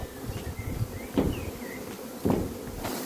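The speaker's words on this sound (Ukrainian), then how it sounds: "Загуділа бджілка" Honeybees buzz around open hives at an apiary during the acacia flow, a close, continuous hum with individual bees droning past and a couple of soft knocks.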